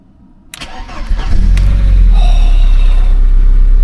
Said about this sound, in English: let's just see what it's like first start.